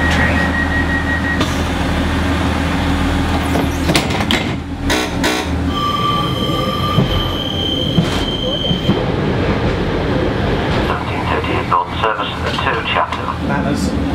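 A Pacer train runs along the line to Chathill, its wheels rumbling and clattering over the rails with brief squeals, heard from inside the carriage as people talk over the steady noise.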